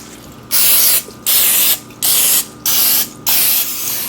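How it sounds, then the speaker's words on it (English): Cooking spray hissing onto a baking pan in five loud, evenly spaced bursts of about half a second each, separated by brief pauses. "So let's go ahead and spray the pan."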